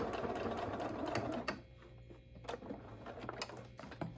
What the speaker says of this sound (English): And then I'm going to back stitch over that.